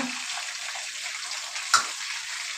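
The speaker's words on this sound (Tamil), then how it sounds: "கத்திரிக்காய் போட்டு மீடியம் ஃப்ளேமில் வச்சுக்கோங்க" Eggplant fries steadily on a medium flame, a soft even hiss with one brief clink partway through.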